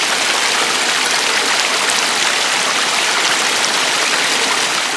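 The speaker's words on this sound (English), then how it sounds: "that flowing water sound" A stream flows near a lake trail in the woods, a continuous rushing, bubbling wash of water, steady and fairly close with no voices.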